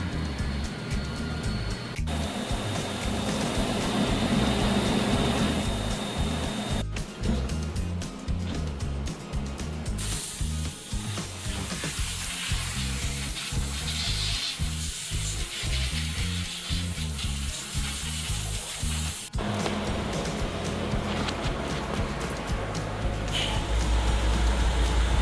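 A CNC mill takes a contour cleanup pass on a part, a steady hissing cutting noise with coolant-like sizzle, interrupted by abrupt changes in tone as the tool moves between passes.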